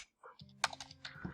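A handful of quick keystrokes on a computer keyboard, close and clear, tapped in an uneven rhythm over little more than a second.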